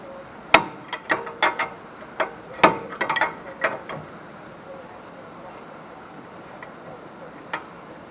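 A wrench works on the passenger-side front axle hub of a Ford Taurus, making sharp ratcheting clicks in irregular clusters close by, then quieting with one last click.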